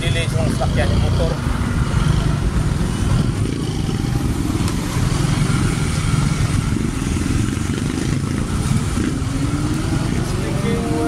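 Motorcycle engines drone along a busy road, a continuous loud rumble with passing traffic and car noise, while a person talks over it throughout.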